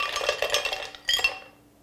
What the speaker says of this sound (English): you're then going to take your 16-ounce cup of ice that we've already pre-measured.